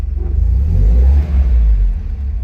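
A 1973 Alfa Romeo Spider engine drones loud and close during a drive, a steady low rumble that swells slightly as it pulls, with no talking.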